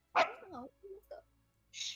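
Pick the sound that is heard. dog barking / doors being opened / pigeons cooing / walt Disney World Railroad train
dog barking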